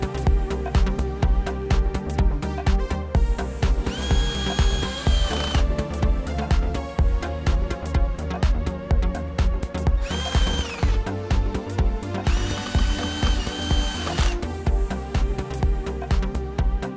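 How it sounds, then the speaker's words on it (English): Cordless power driver tightening screws on the cover of a 1 HP painted 56-frame boat lift motor, with repeated whirring bursts separated by short clicking pauses, close and loud throughout. "Tighten the screws."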